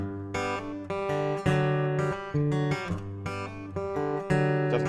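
Close acoustic guitar rhythm pattern played without any thumb slap, plain strummed chords ringing in a steady groove for a few bars, no voices.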